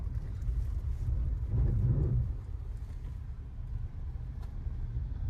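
A Maruti Suzuki Grand Vitara Delta 2026 driving on an Indian road, a steady low engine and road rumble with wind noise, swelling briefly around the middle before settling back.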